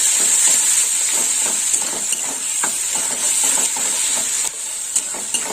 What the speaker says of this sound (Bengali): একটু নেড়ে করে দেবো